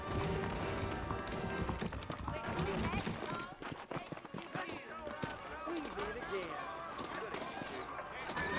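Horse hooves clip-clopping in the Western video game Red Dead Redemption, a rhythmic trotting patter of hoofbeats beside nearby voices talking, moderately loud and steady across the stretch.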